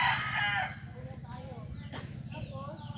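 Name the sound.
rooster crowing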